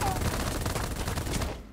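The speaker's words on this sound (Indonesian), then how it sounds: "Ada yang nembakin aku." Rapid, dense automatic gunfire in the mech shooter game Super Mecha Champion, a loud continuous burst of shots that cuts off abruptly near the end.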